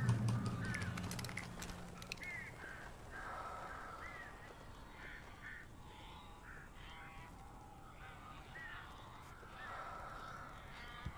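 Crows cawing in the Alan Wake video game, a series of harsh calls repeating through the clip over a steady ambient game backdrop, moderately loud with no talk.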